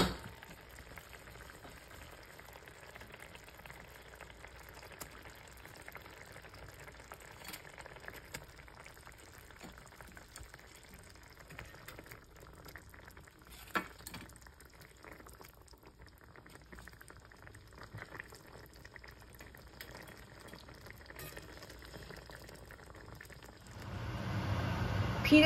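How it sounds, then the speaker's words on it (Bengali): Rohu fish curry with raw mangoes simmering in a covered pot: a steady, faint bubbling and low simmer hiss that runs throughout, with a brief clatter midway and a louder rise right at the end. "তারপরে আবার 10 মিনিট মতো রান্না হতে দেব।"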